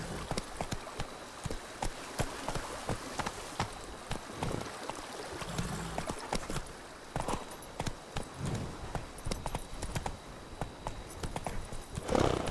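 Horse hooves clip-clop steadily at a trot in The Witcher 3 video game, a continuous rhythmic beat of close hoofsteps over a constant ambient wash of wind or flowing water.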